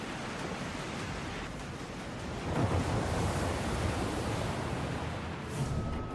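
Heavy ocean surf in a stormy sea with waves up to 9 m high, a steady broad roar of crashing water and wind that swells louder midway, with no voices.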